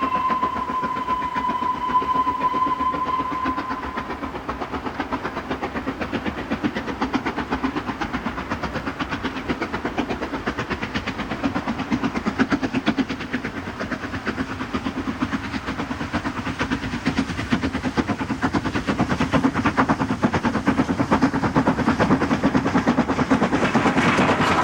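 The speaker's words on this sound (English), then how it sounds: "The sole survivor of the N2s works on the Great Central" An LNER N2 class 0-6-2 tank steam locomotive on the Great Central Railway makes a continuous, fairly close rumble with steady rhythmic clatter. A brief tonal whine sounds at the start, and the noise builds slightly toward the end.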